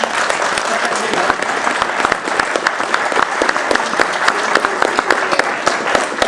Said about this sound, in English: Is that your clapping?